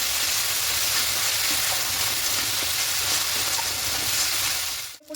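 Rohu fish masala frying and being stirred down in a pan, a loud, dense, continuous sizzle that holds steady throughout and then drops sharply at the very end.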